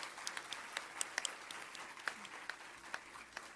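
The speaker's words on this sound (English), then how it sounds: "I request the audience to please give a huge round of applause for such a skillful and proficient woman" A seminar audience claps for a speaker, with soft, scattered applause from a modest crowd heard at a distance, thin and fairly faint throughout.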